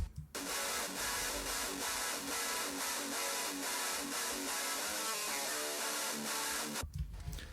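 Strange, fizzy distorted guitar layer from a metal mix, a harsh buzzing high end chugging through a riff at steady loud level for about seven seconds before cutting off abruptly.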